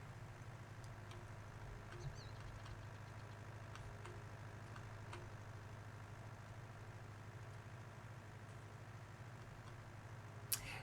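A Fiat tractor in Farming Simulator 19 drives along with a steady, faint low engine drone, unchanging throughout, with a couple of tiny clicks.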